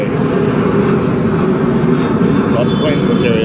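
Airplanes fly over a beach neighborhood at an outdoor café, a steady loud broadband engine roar filling the whole stretch with no words spoken.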